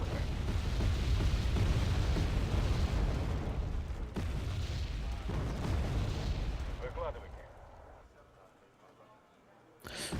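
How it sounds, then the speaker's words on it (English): Artillery strike explosions in the video game Wargame Airland Battle, a dense rumbling barrage of booms and bursts that fades out near the end, with a voice talking over it. "somebody decided to put an artillery strike"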